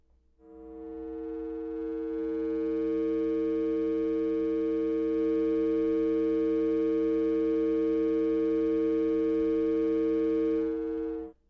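A fast sine wave modulating a tone through a Moddemix VCA gives a steady, loud, buzzy sustained drone with a fixed pitch. It starts about half a second in, holds evenly for around ten seconds and then cuts off, with no talking.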